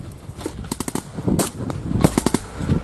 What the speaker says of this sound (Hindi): किस तरीके से टावर पर वो फायरिंग कर रहे हैं ये देखिए।